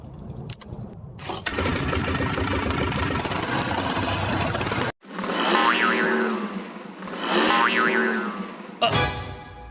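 A motorcycle engine is revved in a few rising, whining bursts separated by short gaps, loud and close, with no voices over it.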